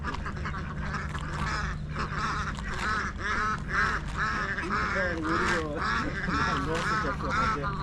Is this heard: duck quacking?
yes